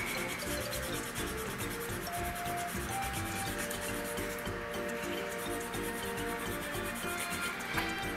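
Steady scratchy back-and-forth rubbing as a sanding tool works the seam on a 1/100 Full Mechanics Gundam Barbatos Lupus Rex plastic model kit, close and continuous with no talk.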